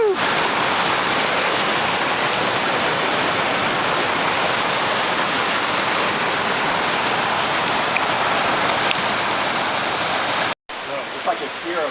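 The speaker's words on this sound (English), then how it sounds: "There's that waterfall." A mountain waterfall near George Creek, seen while water levels run low, keeps up a constant broad rushing hiss for most of the stretch, then cuts out abruptly, leaving a quieter tail with faint outdoor sound.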